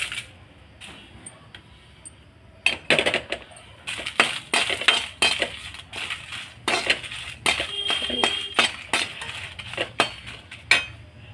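A kadai is set on a stove and dry red chillies are tossed in, giving a run of sharp metallic clinks and rattles in quick uneven bursts, close and fairly loud, with no talking.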